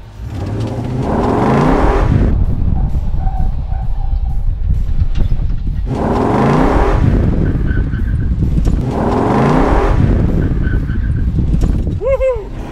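Ford F-100 pickup with a 5.0 Coyote V8 swap accelerating hard in three long surging pulls, loud and close, the engine note rising through each gear; people talk and whoop briefly near the end.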